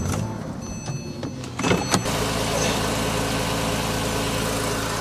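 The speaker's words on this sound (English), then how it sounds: "Cold start." A Porsche with a manual transmission makes a cold start on a hot day: a brief whir and clatter from the starter, then the engine catches and settles into a steady, fairly loud idle that continues to the end.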